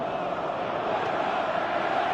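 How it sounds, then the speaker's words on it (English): Simulated stadium crowd in PES 2018 cheering and roaring steadily, a dense, even wash of massed voices during a football match. "Crowd calling for him to shoot."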